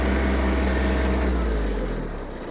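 Hitachi CX-150 Japanese mini tractor engine running steadily close by, a loud continuous low drone that eases slightly toward the end, with no talk.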